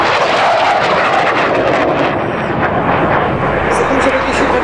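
The engine of a Hawker Hurricane Mk I at a NATO Days aerial display in Ostrava roars loud and steady throughout, a broad continuous drone with a crowd-like wash beneath it.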